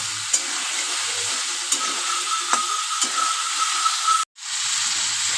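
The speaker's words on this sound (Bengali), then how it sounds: "এবার ভালো করে ভেজে নেব।" Steady close sizzle of vegetable curry frying in a pan with turmeric and salt, broad hiss with occasional sharp pops and scrapes, uninterrupted apart from a brief dropout near the end.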